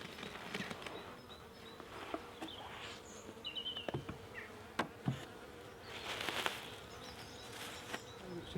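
Honeybees at a hive feeding on pollen substitute give a steady, close buzzing hum with scattered louder wingbeats and faint clicks in the background, in spring.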